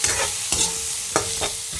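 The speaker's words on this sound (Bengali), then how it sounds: "এখন আবার একটু নাড়বো।" Vegetables with turmeric and salt being stirred in a frying pan: three or four distinct scraping stirs over a steady background sizzle, close and fairly loud.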